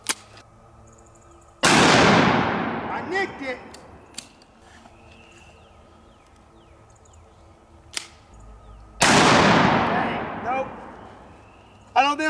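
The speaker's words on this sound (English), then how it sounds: "So I'm gonna try to hit this with a slug" A sawed-off 12 gauge shotgun fires Hornady 2.75-inch one-ounce slugs at a mustard jug outdoors: two loud, sharp blasts with long ringing decays, spaced several seconds apart, with speech in between.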